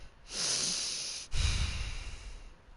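A person takes a deep, slow breath in and then lets it out heavily, close up and alone, with a long airy inhale followed by a breathy exhale. A faint background hum sits under both.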